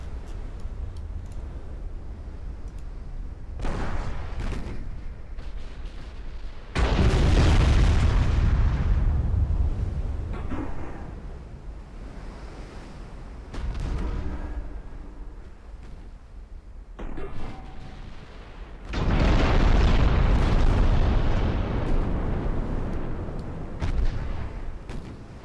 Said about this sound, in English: Oh, and it's exploding.